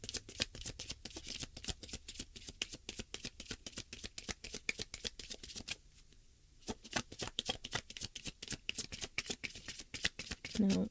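Tarot cards shuffled by hand in a fast, crisp riffling patter, close up and continuous, pausing briefly about midway before resuming; a voice speaks faintly underneath.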